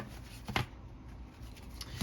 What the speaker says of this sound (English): I'm going to shuffle some cards here